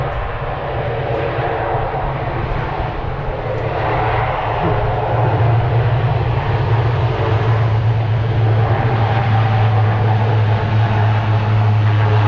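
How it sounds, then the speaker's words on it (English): A propeller aircraft at a Pensacola naval air show roars loudly and steadily just after touchdown as its props swing into reverse pitch to brake, a continuous engine drone with a strong low hum throughout. "change the pitch of the props from positive to negative, so that instead of pulling air, it's pushing air."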